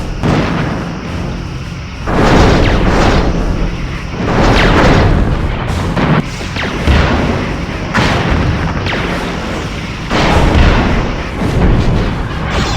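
Phaser fire and explosions boom repeatedly in the Star Trek Bridge Commander space combat game, a dense, loud series of heavy blasts and rumbling impacts lasting throughout with no talk.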